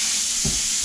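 Fish frying in a pan, a constant close hissing sizzle with a couple of low soft knocks from the pan, no talking.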